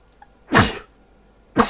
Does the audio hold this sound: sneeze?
yes